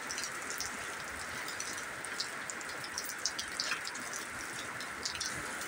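Steady rain patters down onto water in Patiya, Chittagong, a dense hiss of drops with scattered brighter splashes, continuous and fairly close, with no voices.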